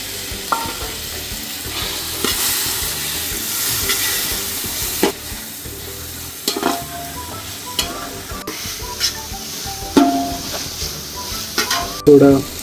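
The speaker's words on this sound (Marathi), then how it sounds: "कांदा थोडा मस्त असा लालसर झाल्यावर थोडे टोमॅटो टाकून घेऊ." Onions and tomatoes frying for chicken biryani, a steady close sizzle with repeated scraping stirs of a spoon against the pan throughout, louder clinks near the end.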